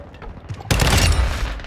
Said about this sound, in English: Throwing grenade. Taking fire.